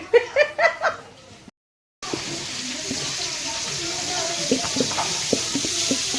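Chicken cooking in a pan at a family lunch, a steady hissing sizzle with scattered stirring clatters, preceded by brief talk and a short silence.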